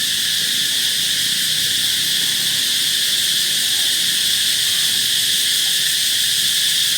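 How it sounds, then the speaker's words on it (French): Loud cicadas buzz in the countryside, a dense, constant high-pitched drone that fills the whole stretch without break, with faint low background noise beneath. "Bah oui, ce sont bien les cigales."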